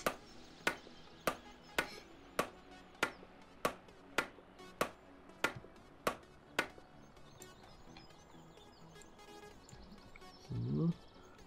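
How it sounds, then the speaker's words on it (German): A steady series of about a dozen sharp wooden chops from an axe felling a tree in Landwirtschafts-Simulator 17, evenly spaced, followed by a brief rustling crash; faint speech sits underneath. "damit könnt ihr dann auch Bäume fällen"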